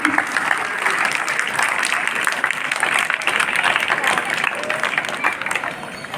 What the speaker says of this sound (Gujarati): દાતાશ્રીઓને આપણે તાળીઓના ગુંજરાવથી વધાવીશું.